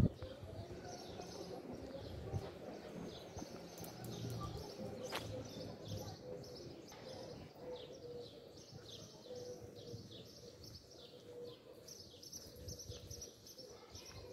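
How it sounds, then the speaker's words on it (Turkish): Outdoors in a rural seaside-like village area, small birds chirp and sing continuously. Pigeons coo in low tones nearby over a soft background hum, and a sharp click briefly stands out. "Kuş sesleriyle şu ortam bir başka keyif oluyor."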